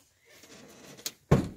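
A door on a Ford Transit van opens with a faint slide and click, followed by one loud, sharp mechanical thud near the end.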